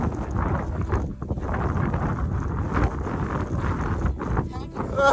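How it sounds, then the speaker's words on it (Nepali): Strong wind sweeps over a mountain ridge on a Nepal trek, buffeting the microphone with loud, gusty rumbling while a person talks over it. "मलाई उडाउँछ होला हावाले."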